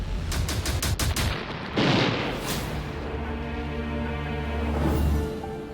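Anti-aircraft guns fire on B-17 bombers in a loud burst of rapid shots, then heavy booms and sustained rumbling gunfire follow, dense and close with no speech.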